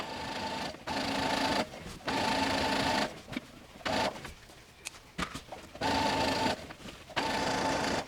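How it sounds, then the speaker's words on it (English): Sewing machine stitching fabric 1/4 inch from the top edge, with no back stitching, for kids' ruffled shorts: close, steady mechanical whirring in several runs, broken by brief stops and a few soft handling noises. "we're gonna sew 1/4 inch from the top edge of our fabric"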